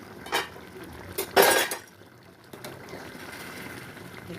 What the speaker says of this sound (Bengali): আমি এখানে গরম জল ব্যবহার করব গরম জল দিয়ে দেবো ঢাকনাটা খুলে দেবো